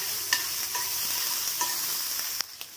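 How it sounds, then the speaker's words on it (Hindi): Finely chopped small onion sautés in hot oil with a brief, steady hiss, and a few light clicks of stirring come near the end. "ऐड कर देंगे एक स्मॉल साइज का अनियन एकदम फाइनली चॉप किए हुए। इसको थोड़ा सा सौते कर लेंगे।"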